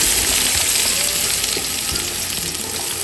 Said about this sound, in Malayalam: നമ്മുടെ നെയ്യ് നന്നായിട്ട് ചൂടായി കഴിഞ്ഞിട്ട് വേണം നമ്മൾ ഉള്ളി ഇട്ട് കൊടുക്കാൻ വേണ്ടിയിട്ട്.